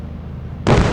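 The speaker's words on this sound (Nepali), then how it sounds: "गनले सिधै हान्ने, बम हान्ने हो" Bomb blast in a gun-and-vehicle video game, a single sudden loud burst cutting in over a low rumbling background and holding to the end.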